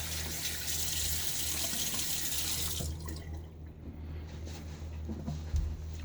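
Tap water runs steadily into a sink while a face is wetted before a shave, a close, continuous splashing rush that cuts off about halfway, leaving quiet drips and small movements.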